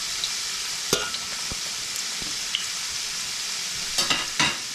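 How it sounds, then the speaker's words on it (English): Eggplant and fresh garlic fry in a pan with a steady, bright sizzle throughout, broken by a few sharp clicks and scrapes of stirring near the end. "this is the process of starting to fry our eggplant"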